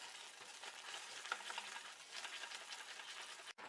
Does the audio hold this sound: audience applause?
no